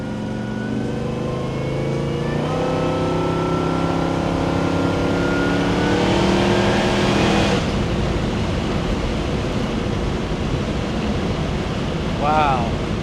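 A 1966 Chevelle SS with a Magnuson-supercharged LS3 V8 accelerates hard, its engine note climbing steadily in pitch for several seconds before giving way to a rushing roar of wind and road noise, loud and close.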